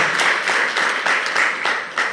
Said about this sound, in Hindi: पुराने लोग ताली बजाओ उनके लिए अच्छे से